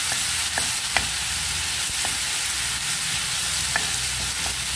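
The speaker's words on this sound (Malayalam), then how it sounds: "ഇതൊന്ന് നമുക്ക് വഴറ്റിയെടുക്കാം ജിഞ്ചർ ഗാർലിക് പേസ്റ്റ്" Ginger garlic paste sautéing in a pan sends up a loud, continuous sizzle, punctuated by several sharp taps and scrapes of a spoon as it is stirred.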